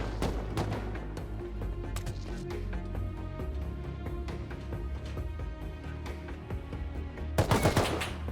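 Rapid automatic gunfire from a player shooting in the survival game Rust, dense bursts of shots running nearly continuously, close and loud, with a sharper heavy volley near the end.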